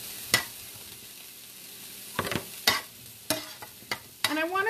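Mushrooms sautéing in a pan for a turkey recipe, a steady close sizzle broken by several sharp scraping stirs and clinks of a utensil against the pan.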